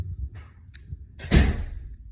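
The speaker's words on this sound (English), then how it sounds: "Shut the door for me." A door is shut indoors with one solid thud, loud and close, after faint rustling and a brief knock.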